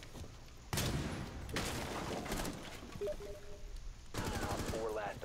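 Bursts of automatic gunfire ring out in a Rainbow Six Siege house match, with two loud rapid volleys and a later sustained burst, while players talk over and between the shots.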